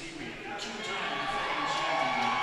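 Spectators at the 2019 MAC swimming championships cheer for a swimmer in an A final. The broad crowd roar swells and holds steady under a commentator's voice.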